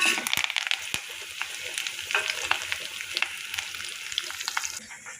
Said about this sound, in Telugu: ఇవన్నీ కలిపి వేపుకోవాలి.